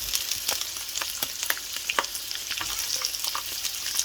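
Washed shrimp fry with onions in a pan for biryani, giving a steady, close crackling sizzle with small pops and occasional stirring scrapes, and no voices.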